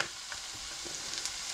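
Paprika frying off in a pan for goulash gives a steady, close sizzle that holds evenly throughout, with faint scrapes and stirring clicks over it.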